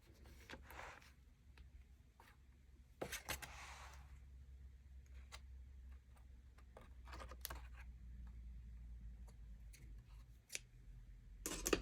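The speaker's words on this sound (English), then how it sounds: "So right now I'm going to just carefully trim some of the fabric from this side sticking out." Quiet, sparse snips of scissors trimming excess fabric while embellishing a vintage journal, with soft crisp clicks at irregular intervals in a still room.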